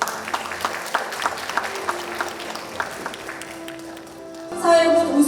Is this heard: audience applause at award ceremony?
yes